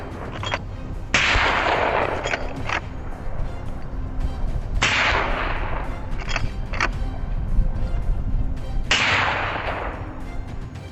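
Three loud rifle shots ring out several seconds apart at wild boar in a snowstorm, each with a sharp crack and a long echoing tail, over a low outdoor rumble.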